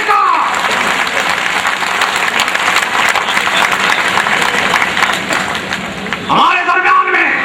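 A large crowd at a political conference in India bursts into loud, sustained applause welcoming a speaker, steady clapping filling the space with a few voices rising near the end.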